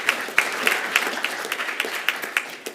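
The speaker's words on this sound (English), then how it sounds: "Let's give them a round of applause." An audience at a security conference closing ceremony claps for the second-place team, a small crowd with distinct individual claps standing out in an uneven, moderately loud patter.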